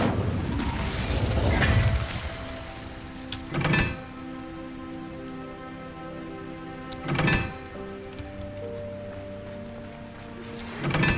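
Incendio fire spell cast in Hogwarts Legacy, heard as a few sharp whooshing bursts spaced several seconds apart over a steady game ambience, with no talking.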